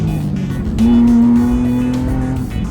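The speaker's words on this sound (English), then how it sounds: "It's fun to rev out now." A Nissan 350Z drift car engine revs up loudly to a high, sustained whine, holding the pitch before easing off, close and without talk.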